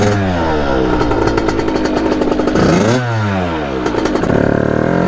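A Kawasaki KX80 big bore dirt bike engine revs hard while being ridden around a yard, loud and close, its pitch climbing, dipping briefly at a shift, then climbing again.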